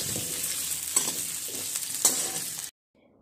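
Potatoes frying in oil for restaurant-style aloo gobi make a constant close sizzle broken by a few scraping stirs and a light clink, then stop abruptly into silence.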